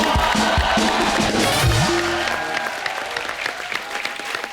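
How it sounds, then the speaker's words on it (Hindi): Loud, sustained applause from a large studio audience at a comedy TV show, with cheers and voices mixed in throughout. "जोरदार तालियां"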